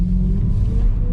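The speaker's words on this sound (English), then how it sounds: "I just gave it a small dart of the throttle" A BMW E92 M3 street car's V8, fitted with an Eventuri carbon plenum and intake, gets a small throttle blip. It gives a loud, close, deep rumble with a faintly rising tone.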